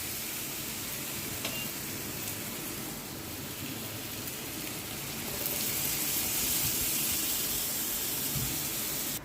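Spinach paste stirred into frying masala in a pan for restaurant-style palak paneer, giving a steady close sizzle and hiss throughout that swells slightly louder in the second half, with no talking.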